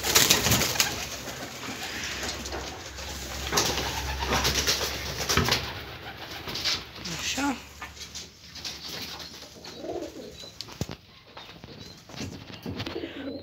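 Pigeons cooing inside a loft where chicks wait to be fed, soft repeated coos and rustling up close, with occasional sharper knocks and movement throughout.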